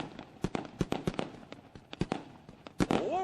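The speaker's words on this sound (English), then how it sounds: "Lone Wolf Fireworks going all out, lighting up the sky here in victory." Lone Wolf Fireworks celebrating a crate sprint car victory fire a rapid string of sharp bangs and crackles, some echoing, at moderate distance in an outdoor speedway setting.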